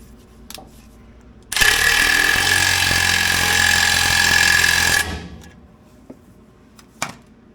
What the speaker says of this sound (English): Take the impact wrench.